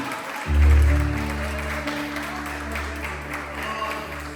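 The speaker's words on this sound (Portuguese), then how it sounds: "Uma salva de palmas ao Senhor nesta manhã." A church congregation applauds during a morning service, the clapping layered over loud, sustained low keyboard chords that swell in at the start and hold underneath.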